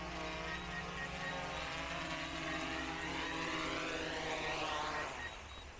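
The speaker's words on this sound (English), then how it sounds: "Let this thing come in first. Landing automatically." A DJI Mavic 3E drone lands automatically, its propellers whirring loud and close in a steady buzz; the pitch sweeps downward near the end and the level drops as the motors spin down.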